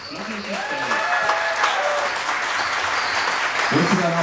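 A crowd applauds a prize winner at the Wunderlich Anfahrt 2022 motorcycle event, steady clapping mixed with a voice and some tonal background sounds, moderately loud throughout.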